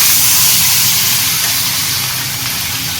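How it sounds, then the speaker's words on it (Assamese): A few bhangon fish fry in a hot pan with a loud, steady sizzle and hiss that holds without a break throughout. "মাছ ভাজি আছে, ভাঙোন মাছ কেইটামান ভাজা হ'ল"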